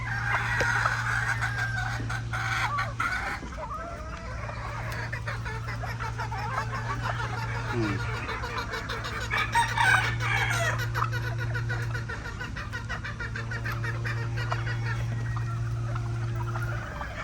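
Chickens cluck and chatter up close while a rooster crows a few times, over a steady low electrical hum.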